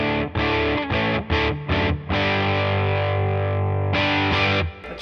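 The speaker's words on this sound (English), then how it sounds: "That just really sounds like an overdrive." Electric guitar through a fuzz pedal turned down to an overdrive setting, playing sustained, thick distorted chords with a few short breaks, loud and alone.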